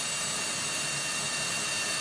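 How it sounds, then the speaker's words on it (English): A power drill with a fresh bit drills out a hole during a Backwoods BMP rear installation on a Ski-Doo Expert snowmobile, giving a loud, steady, close high-pitched whine that runs continuously throughout. "just drill it out"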